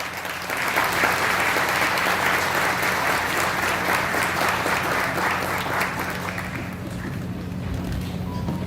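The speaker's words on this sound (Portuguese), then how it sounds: "Vamos receber, com a salva de palmas, Samidana." Sustained applause from a seminar audience at an agribusiness lecture in Patos de Minas, welcoming a speaker to the stage; dense, steady clapping for about seven seconds that thins slightly toward the end.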